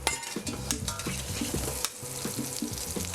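Ginger goes into hot oil in a wok and sizzles steadily as it is stir-fried, with rhythmic metallic scraping and clanks from the stirring.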